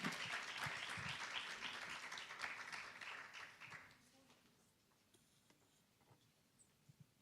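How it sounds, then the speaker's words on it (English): An audience claps in a full round of applause at a Student Entrepreneurship Week event, dense and steady for about four seconds before fading to a few scattered claps and room quiet. "Can we please give him a round of applause?"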